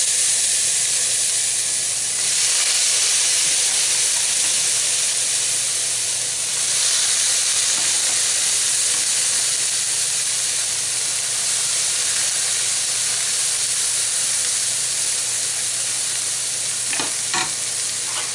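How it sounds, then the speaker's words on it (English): Cooked beans strained from the pot for Georgian lobiani bean bread give a steady, close hissing rush of draining water and steam that runs unbroken throughout, with a couple of faint clinks near the end and no talking. "now I'm straining beans from the pot and adding 2 onions"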